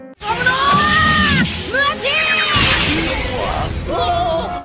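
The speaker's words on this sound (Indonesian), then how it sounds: "Gomu Gomu no Muchi yang menyebabkan baju jira Eldrago yang terbuat dari emas hancur" Golden armor shatters in a One Piece anime fight, a loud, dense crash with ringing sweeps and shouts or screams over continuous battle effects.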